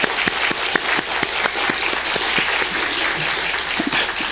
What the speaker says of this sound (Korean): 정말 큰 박수를 한번 치고 싶은데요